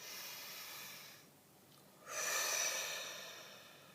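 One deep inhale and exhale during a tarot reading, soft and close, an airy breath that fades in a short pause, then a louder drawn-out breath out.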